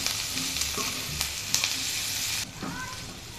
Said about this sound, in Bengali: পেঁয়াজ রসুনগুলো একটু নরম হওয়া পর্যন্ত ভাজবো।